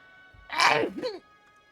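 A single person sneezes once, a short sharp burst rising out of quiet background hum, heard during a casual gaming session among friends.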